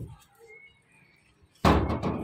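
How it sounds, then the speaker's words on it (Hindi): A door on a dove enclosure closes with a single solid thunk after a stretch of near quiet, followed by a loud burst of rustling noise. "अभी मैं बाहर निकल के दरवाज़ा फिर बंद कर दूँगा"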